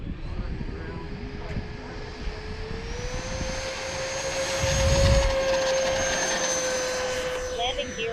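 A 90mm EDF F4D Phantom II radio-controlled jet flies past with a steady, rising ducted-fan whine and a broad roar that swells toward the middle, with brief voices in the background.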